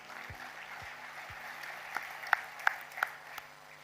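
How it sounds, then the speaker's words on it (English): Audience applause at a formal evening ceremony in Odisha: a steady, dense patter of many hands from a large crowd, with a few sharper, closer claps near the end. "Round of applause for him, ladies and gentlemen."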